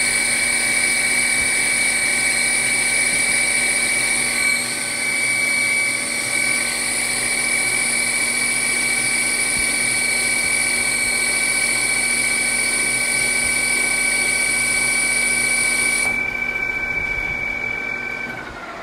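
A PM 1640TL metal lathe runs through a cutting pass at moderate speed, a loud steady mechanical whine with sustained high tonal hums over a low motor drone, and one tone drops out near the end.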